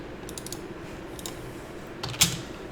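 Keys tapped on a computer keyboard while entering a Java compiler command at a Windows command prompt, a few light clicks early on and a sharper cluster of keystrokes near the end, close and fairly quiet.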